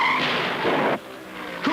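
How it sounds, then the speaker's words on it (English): Stock cars at Darlington Raceway in the 1978 Southern 500 skid with loud tire squeal and sliding, a harsh screech that cuts off abruptly, then another short squeal. "Other drivers slide all over the racetrack."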